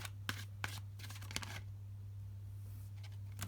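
Tarot cards are riffled and shuffled by hand in a quiet room, a few quick snapping bursts close to the microphone followed by softer rustling over a low steady hum.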